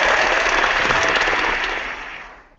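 Loud, dense applause from a crowd welcoming guests at the start of a live show, filling the room with steady clapping before tapering off and fading out at the end.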